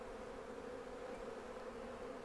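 Honey bees hum in a steady, low buzz around an open Flow Hive during a brood inspection, fairly quiet and unbroken, with no voices.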